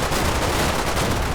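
Dense, continuous gunfire from a WWII-era company battle in a video game, German Kar98k riflemen firing over a wall amid wider shooting. The crackling barrage is loud, with no clear gaps between shots.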